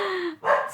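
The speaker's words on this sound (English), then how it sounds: "I'm going to bring her inside so that she stops barking" A dog gives two quick, close barks, the first drawn out and falling in pitch, the second short and sharp, heard alone.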